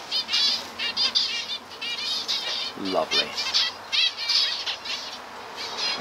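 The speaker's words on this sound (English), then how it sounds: "Zebra finch over there." Zebra finches in an aviary chatter with rapid, bright repeated chirps throughout, close by, with a brief flutter of wings partway through and a short spoken word from a person.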